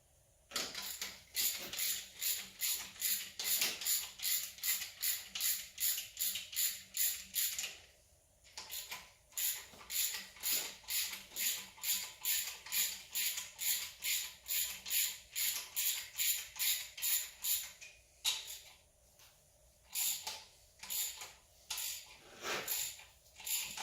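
A hand ratchet working a tight bolt on a 6.0 LQ4 V8 engine during teardown, giving rapid rhythmic clicking in repeated bursts with short pauses between strokes, close and crisp, with no voices.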